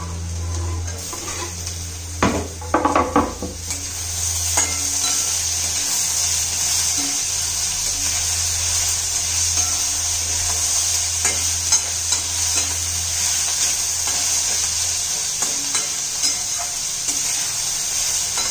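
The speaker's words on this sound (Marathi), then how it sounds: "टोमॅटो चांगलं मऊ होईपर्यंत हे सर्व परतून घ्यायचं आहे" Spices, garlic and tomatoes sizzle and fry in a pan for matki rassa, with a continuous close hiss, an early burst of louder spoon-scraping, then steady stirring scrapes at a moderate level.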